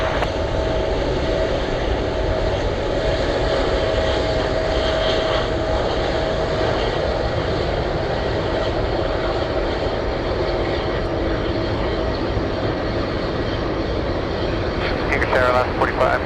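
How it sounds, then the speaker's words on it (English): Heavy jet aircraft taxiing at Anchorage airport on a gusty day, a steady broadband engine roar that stays loud and constant throughout, with radio chatter and voices under it. "Look how fast this one is taxiing."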